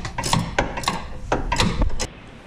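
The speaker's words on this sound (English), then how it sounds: "you can hold it with a 17 millimeter wrench and turn it that way" A 17 mm wrench turns a bolt while an Allen key holds the shaft on a front coilover of a 2003 BMW Z4 E85, giving close, uneven metallic clicks and ratcheting scrapes in short bursts.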